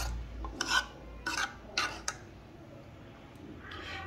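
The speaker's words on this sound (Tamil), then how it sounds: "எல்லாம் ஆட் பண்ணிட்டு நல்லா கிளறி வச்சுக்கலாம்." Sago moong dal vermicelli payasam with cardamom powder and grated coconut is stirred in a pot with a spoon, making several short, quiet scraping strokes at an uneven pace, then a pause and one last faint stir.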